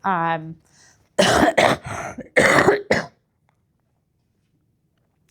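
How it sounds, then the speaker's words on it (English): Several harsh, explosive coughs in quick bursts follow a short voiced sound, close and loud, then silence. "this is a terrible cough"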